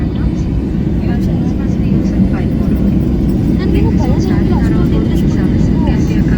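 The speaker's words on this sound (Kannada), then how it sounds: "ಫ್ಲೈಟ್ ಟೇಕಪ್ ಆಗಿದೆ." A steady, loud airliner engine roar as the flight takes off fills the clip, with people talking over the drone.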